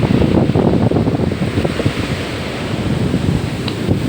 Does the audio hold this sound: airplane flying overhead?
no